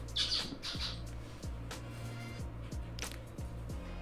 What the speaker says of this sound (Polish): Ale wesoło u ptaszków.